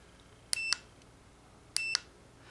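A multimeter gives two short, clear electronic beeps about a second apart, close and distinct against a quiet background with no talking.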